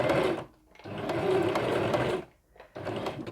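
A domestic sewing machine topstitches piping under a Teflon presser foot, running in two steady mechanical bursts separated by brief pauses, close and clear with no voices.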